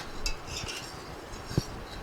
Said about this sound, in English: So all I'm doing is just keeping it stirred around